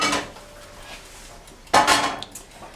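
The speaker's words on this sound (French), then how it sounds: "Je prépare la poêle." A frying pan is handled on a small kitchen stove before cooking burger patties, with a faint clink early on and then a sharp, close metallic clatter of pan against hob and utensils.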